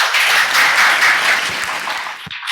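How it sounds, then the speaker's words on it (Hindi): Loud applause from a studio audience at an Indian entertainment talk show, broad dense clapping that holds steady before thinning into a few scattered claps and a brief voice at the end. "एक बार जोरदार ताली आप सबकी हो जाए।"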